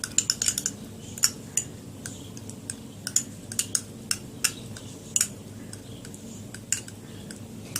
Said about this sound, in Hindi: अब इसे अच्छे से मैं मिक्स करूंगी एलोवेरा जेल के साथ एवॉन विटामिन ई के 400 mg वाले कैप्सूल।